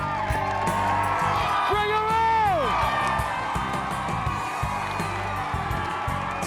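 A community crowd with many children cheers, whoops and shouts in a continuous roar at a Florida home rebuilt after Hurricane Wilma. One rising and falling whoop stands out, and a voice speaks briefly through the noise.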